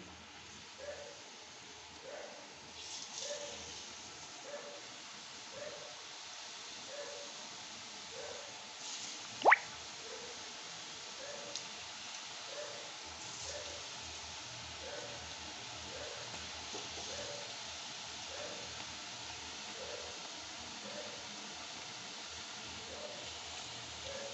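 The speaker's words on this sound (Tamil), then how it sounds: "ஒரு ஒரு தட்டையாக எடுத்து பொறுமையாக எண்ணெயில் போடணும்" Thattai rice-flour dough discs slipped one at a time into hot oil, a steady soft frying hiss with faint bubbling and a sharp click partway through, quiet and close.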